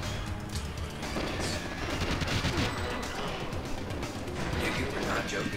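A gun in GoldenEye 64 fires in a steady, rapid rattle of shots that keeps going the whole time, mixed with clanking mechanical noise.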